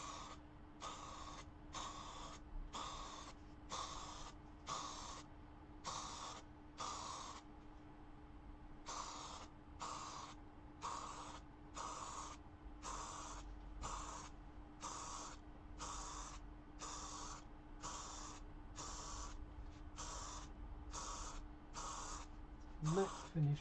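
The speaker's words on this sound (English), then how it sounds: "So just evenly spray this over the surface." Matte finish primer sprayed from an aerosol can onto a surface for a Boeing 737 overhead panel build, a string of evenly spaced short hissing bursts with brief pauses, close and steady, alone over a faint hum.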